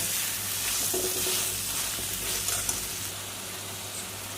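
Masala and potato pieces fry in a pan for Katla fish kalia while being stirred, a loud continuous sizzle close by with soft scraping strokes and an occasional light clink of the spoon.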